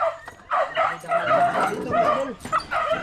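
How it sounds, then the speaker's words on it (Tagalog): Dogs at a rural farm bark and yip in short, excited bursts, close and fairly loud, with a few whimpering notes between barks. "Daming aso dito sa kanila oh."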